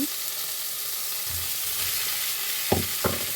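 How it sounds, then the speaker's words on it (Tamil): Dried fish sautés in hot oil in a pan for a raw mango curry, a steady close sizzle with a few low utensil scrapes and two short knocks near the end, no talk. "கொஞ்சம் வதங்கி வரட்டும் கருவாடு"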